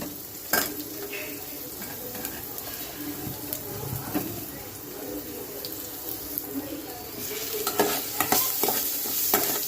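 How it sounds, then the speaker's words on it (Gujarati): Onions frying with curry leaves and mustard seeds over a low flame for upma, a steady sizzle with frequent spatula stirring and scraping, busier toward the end. "ધીમી આંચ ઉપર જ કરવાનું છે અને આપણી આ ડુંગળી ગુલાબી થવા આવે"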